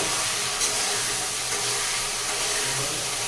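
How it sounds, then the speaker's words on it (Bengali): Small rohu fish pieces fry in hot oil in a pan, producing a continuous close, bright sizzling hiss that holds steady with slight crackles throughout. "তো মাছটাকে ভালো করে ভেজে নিচ্ছি"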